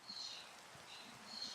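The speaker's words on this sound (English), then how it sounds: "somehow, some way, the those guys survive in the rain" Rain in the video game Minecraft falls as a faint, even hiss of drops throughout, quiet and unbroken, with no voices.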